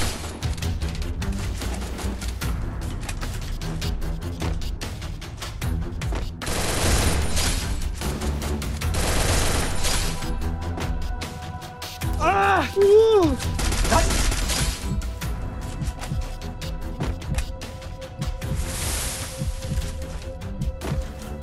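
M1014 shotgun blasts in Free Fire during a solo versus squad match, a scatter of sharp gunshot bursts and booms mixed with game sounds and a voice talking over them.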